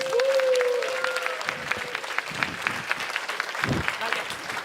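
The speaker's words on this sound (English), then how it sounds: "A big applause to welcome our trainer, Teresa Chang." An audience at a speech-training conference applauds to welcome a trainer, a steady wash of clapping at moderate distance, with a sustained whistle or feedback tone briefly at the start and scattered voices.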